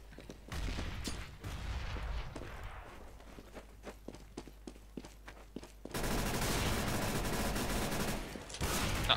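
Rapid bursts of gunfire in Counter-Strike: Global Offensive crackle through the first half, then a denser, louder stretch of continuous shooting and game noise takes over, with scattered footsteps between shots.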